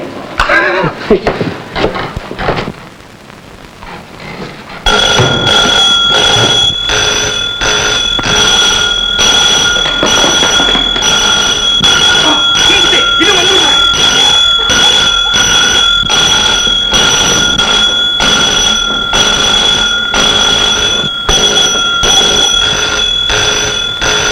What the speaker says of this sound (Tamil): அலாரம் தானாவே அடிக்குதுங்க.